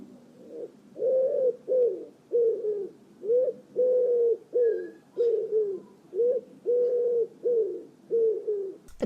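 A wood pigeon coos steadily nearby, its soft hooting phrases repeating in a regular rhythm with short gaps between them.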